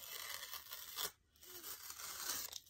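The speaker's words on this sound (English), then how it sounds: "So I'm just going to peel off the upper layer" The upper layer of a collagraph printing plate is peeled away by hand, giving close, quiet tearing and crackling that stops briefly partway through and then goes on.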